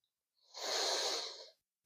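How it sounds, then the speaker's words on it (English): A single long exhale, audible and close, during a morning yoga stretch, rising and fading over about a second in quiet surroundings. "Breathing."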